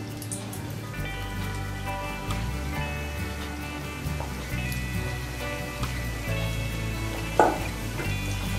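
Balushahi dough fries in hot oil over a low flame, giving a steady, soft, close sizzle throughout. Faint background tones sit underneath, and a brief utensil clink comes near the end.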